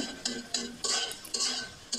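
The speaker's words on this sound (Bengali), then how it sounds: "তেল দিয়ে ডিমটা স্ক্রাম্বল করে নিব" Eggs being scrambled in a little oil in a wok for chow mein, with several distinct scraping, clinking stirs of a utensil against the metal pan at an uneven rhythm, close and clear.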